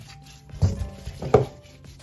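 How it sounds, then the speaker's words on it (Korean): A lemon is scrubbed with coarse salt by hand, giving two short, gritty rubbing strokes heard up close against a quiet background. "레몬은 굵은 소금으로 빡빡 문질러 씻어줍니다"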